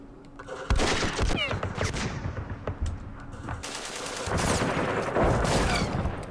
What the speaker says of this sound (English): let's do some shooting.